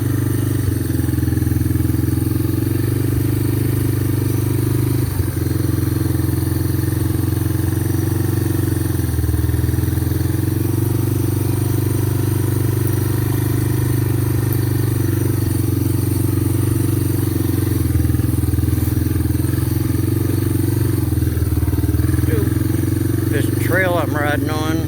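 A three-wheeler's engine drones steadily and loudly at close range while it rides a forest trail, a constant low rumble with rattling and clatter over it throughout.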